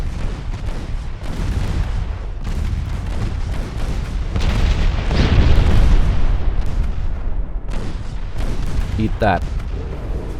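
Torpedo hits exploding against a warship in a naval strategy game, several heavy booms and rumbling blasts rolling over steady battle noise while someone talks.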